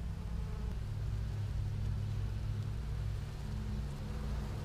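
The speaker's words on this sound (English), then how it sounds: "still a lot of bees in here." Bees in an opened beehive during a hive split, a steady dense low buzzing hum that continues evenly throughout, fairly loud and close, with no voices.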